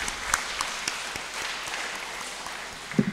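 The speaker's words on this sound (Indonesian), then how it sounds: "Sekali lagi kita berikan tepuk tangan yang meriah, Bapak Ibu" Congregation applause fills a Sunday church service during a cultural-month celebration, a steady wash of many hands at moderate level with a few sharper claps standing out near the end.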